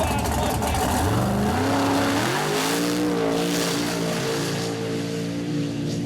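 A mud truck races down the track at the Outlaw Fall Nationals in St. Joe, Texas, its engine roaring loud and close with rising harmonic pitch as it accelerates, then holding a steady high-revving drone through the whole pass.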